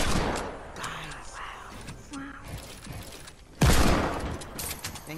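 Rapid SMG bursts from a video game rattle continuously at high intensity, with a sharp louder burst near the end, under a busy mix of game noise.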